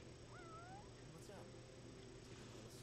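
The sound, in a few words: cat meowing in the video game Final Fantasy 15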